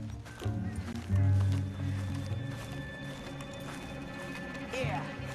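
Horses gallop in Red Dead Redemption 2, with hoofbeats thudding under continuous background music and game ambience as riders come to a stop.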